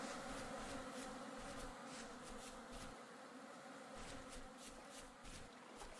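Bees buzz continuously in the survival game Vintage Story, making a droning insect hum that swells and fades as they hover close. There is no speech.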